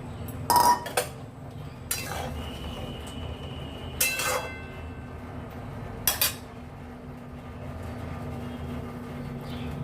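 Fried eggplant pieces dropped into a pan of fish curry with potatoes, giving a few separate clinks and sizzling bursts against a steady low simmer, no voices.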